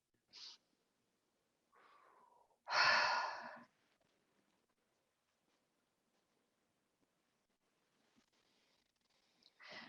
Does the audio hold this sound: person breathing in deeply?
yes